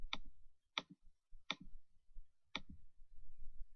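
Mouse clicks selecting athletes in event registration software, four sharp, close clicks at uneven intervals with faint room noise between them.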